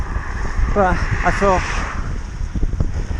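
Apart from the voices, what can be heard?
strong wind blowing on the microphone while cycling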